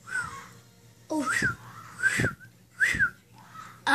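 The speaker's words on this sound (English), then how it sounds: "I can't whistle." Breathy, faltering whistle attempts during toy play: four or five short airy bursts with thin wavering tones, spaced about a second apart, fairly close and moderately loud.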